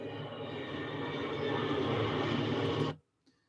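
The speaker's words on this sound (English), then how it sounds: "And you can hear the jet beginning." A jet aircraft flyover from the film Donnie Darko: a steady, loud broadband roar holds at full level for about three seconds, then cuts off abruptly, leaving near silence and one faint later blip.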